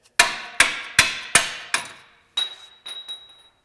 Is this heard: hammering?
yes